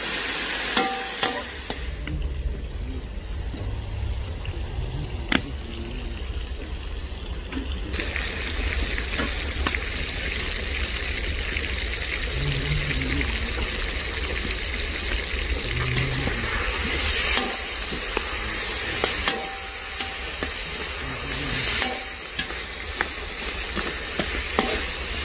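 Lamb and tail fat for Tajik pilaf frying in a pot, a steady loud sizzle with bursts of spattering and occasional scrapes of a stirring spoon, running continuously with no speech.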